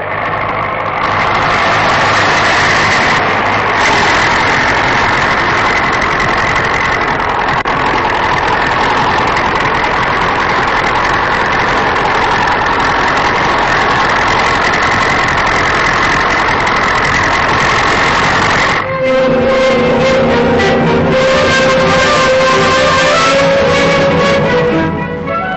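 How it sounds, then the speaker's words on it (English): Several tractors hauling a loaded sledge across the Antarctic ice on an overland expedition to the pole produce a loud, steady engine drone throughout. The tone shifts near the end into a rougher, knocking rumble. "he was pushing on the last 100 miles to the pole with 3 tractors and only 1 loaded sledge"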